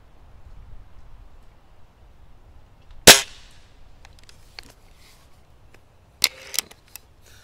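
A Crosman Fury air rifle fires an HN Hornet pellet at a target, one sharp close crack followed by a few fainter ticks and clicks against a quiet outdoor background.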